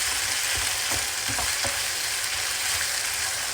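Tomato paste stirred into a frying pan for fish thieboudienne, a loud continuous sizzle with a few soft scraping strokes of the spoon close by.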